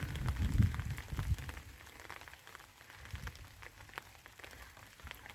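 Autumn rain falling outdoors in a garden, a soft, steady patter with scattered sharper drops, faint and unaccompanied by speech.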